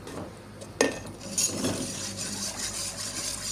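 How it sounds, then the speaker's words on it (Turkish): Muhallebi pudding stirred in a pot, with a sharp spoon clink against the metal followed by softer continuous scraping and swishing as the spoon keeps moving through the thickening mixture; no voices. "Kaynayana kadar hiç bırakmadan muhallebimizi karıştırıyoruz."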